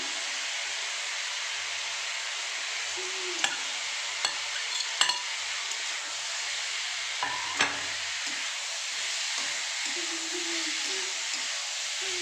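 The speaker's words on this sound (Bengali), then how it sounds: "এবার আমি আলু, বিনস, পনির যে ভেজে রেখেছিলাম সব দিয়ে দিলাম।" Fried potato, beans and paneer tipped into a hot pan with sauces and stirred, giving a steady soft sizzle with a few sharp clinks and scrapes of a spatula, near and without talking.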